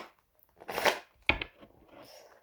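Oracle cards being shuffled for a reading, two soft riffling bursts close by, quiet and brief, with no talking.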